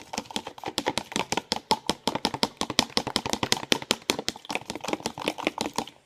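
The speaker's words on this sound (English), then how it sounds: "take your fork, stab the yolk," Farm-fresh eggs whisked briskly with a fork in a bowl, a rapid, steady run of sharp clicking taps close by, about four strokes a second with a short pause midway.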